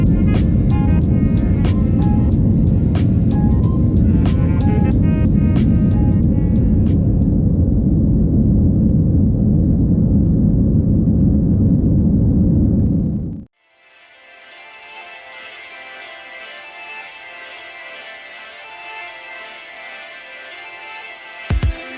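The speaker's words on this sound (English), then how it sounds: "it was finally our turn to take off" A United Airbus A320-200 takes off, with a loud, steady engine roar and rumble heard from the cabin for about thirteen seconds before it cuts away to a quieter, hissing cabin hum.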